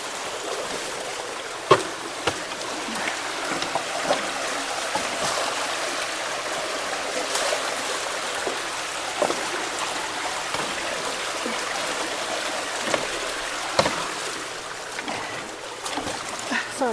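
Rainwater rushes fast through a freshly unclogged culvert, a continuous loud splashing flow with scattered sharp splashes and knocks, no voices.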